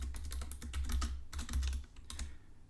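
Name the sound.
typing on a computer keyboard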